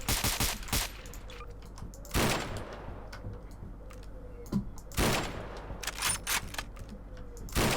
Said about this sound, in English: We've got sniper rifles.